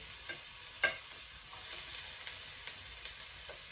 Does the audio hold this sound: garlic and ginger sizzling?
yes